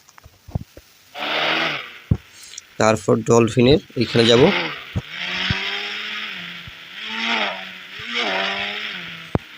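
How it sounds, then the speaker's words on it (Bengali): A mini bike engine in the video game Indian Bike Driving 3D revs and whines in rising and falling bursts, with someone talking over it. "তো মিনি বাইক আসছে"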